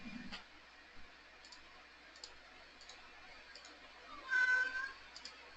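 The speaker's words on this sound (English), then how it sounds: "Yes, hello, cat." A cat gives a single short, faint meow late in a quiet room, with a few soft clicks and ticks scattered around it.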